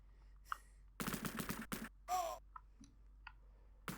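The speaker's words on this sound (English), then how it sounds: "Are they firing at me through the trees." Bursts of enemy gunfire in the Sega Mega Drive game Cannon Fodder, a few short rapid volleys spaced apart with small clicks and blips between them.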